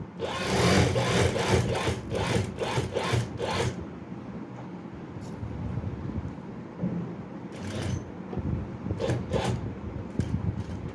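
A sewing machine stitches a kurta with a rapid, close rhythmic chatter in short bursts, then falls quiet, with a few brief later runs of stitching.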